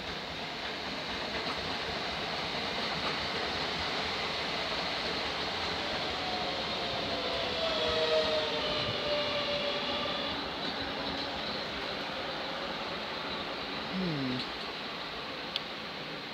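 A train passes through Hitchin station on the East Coast Main Line, a steady, fairly distant rumble of wheels on rail lasting throughout, with a brief rising squeal of wheels near the end.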